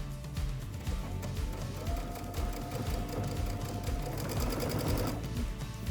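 A sewing machine stitches cording into a fabric project with a steady, close, continuous run of rapid needle clatter and a low mechanical hum, with no talking.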